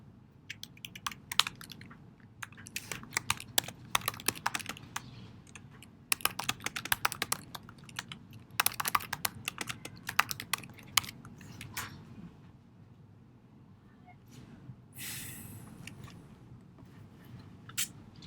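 Computer keyboard typing in irregular bursts of quick clicks, close and clear, with short pauses between runs of keystrokes and no voices.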